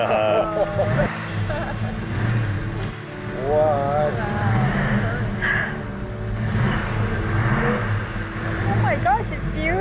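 Plymouth Road Runner engine rumbling as the car is driven, a steady low drone beneath excited voices talking throughout.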